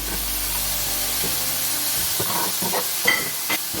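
Mixed vegetables with sweet corn and green peas stir-frying in a pan, a steady soft sizzle broken by a few scraping stirs and clinks of the utensil near the end.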